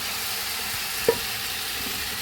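Beef being fried and stirred in a pan, a steady broadband sizzle with one brief utensil knock near the middle, no talking.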